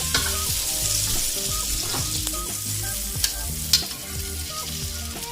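Onion cooks in a little fat in a frying pan for a homemade burger, a steady crackling sizzle with occasional sharp ticks and pops; low music plays underneath, and nobody talks.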